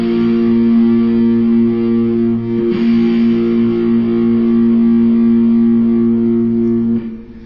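One distorted electric guitar chord, a B played through effects, rings steadily for about two measures with a slight restrike midway, loud and close, then cuts off near the end; nobody talks.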